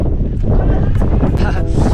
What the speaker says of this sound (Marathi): वारा आणि त्यात धुक्याचा पाऊस जबरदस्त